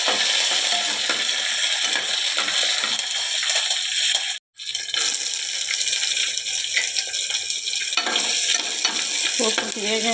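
Chopped vegetables for a bitter gourd and tomato curry fry in a hot tempering of oil and spices, giving a constant loud sizzle with rhythmic scraping as they are stirred. The hiss cuts out for a moment near the middle.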